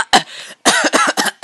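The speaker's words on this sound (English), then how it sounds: "That was a little cough right there." A few short, little coughs from a person playing Minecraft Story Mode, close and dry, in quick bursts with brief gaps.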